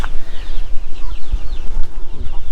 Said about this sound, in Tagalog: Ayan oh, yung mga manok.